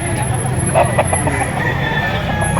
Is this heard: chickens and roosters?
yes